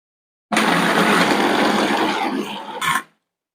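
A kitchen blender whirs loudly through a short burst of about two and a half seconds, a dense, steady mechanical roar blending ingredients, then stops abruptly after a brief final surge.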